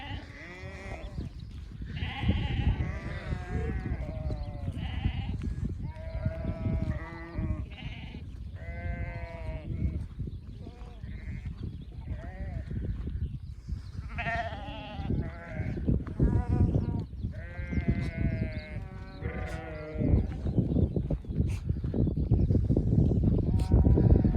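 Sheep and lambs bleat repeatedly on a farm, a flock of good-quality white sheep calling over and over at close range with overlapping cries and steady background noise.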